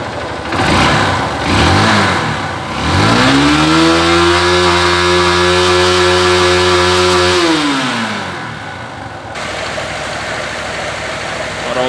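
A motorcycle engine with a charging fault starts up, revs and holds a high steady whine for several seconds, then drops back to a rough idle nearby.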